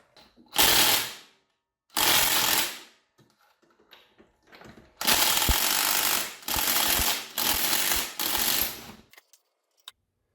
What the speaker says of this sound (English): the next step is to take this bolt out with the impact